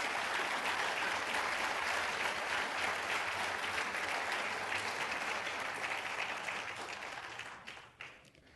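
A church congregation applauds in a sustained, dense burst of clapping that fills the room, then fades out near the end.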